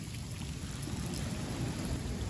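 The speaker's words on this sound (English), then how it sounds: "There's a sprinkler pointed directly at my van." Garden sprinkler spraying water straight onto a van, a steady close patter like heavy rain drumming on the metal body, continuous with no voices.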